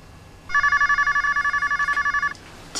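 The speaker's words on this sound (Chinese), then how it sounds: "电话。" A telephone bell rings in a fast, even electronic trill, one loud burst of about two seconds with rapid pulsing, close by in a quiet room.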